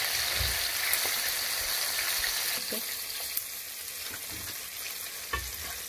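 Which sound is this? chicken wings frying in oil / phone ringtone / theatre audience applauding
chicken wings frying in oil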